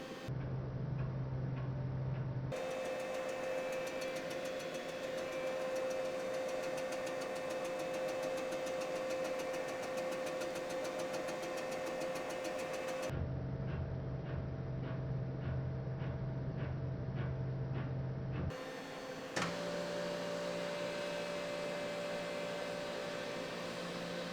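A machine cuts notches into the cylinder bores of a big block Mopar V8 engine block, a loud steady mechanical drone with a rapid ticking rhythm, broken by abrupt shifts in pitch as the machine changes speed, with no talk.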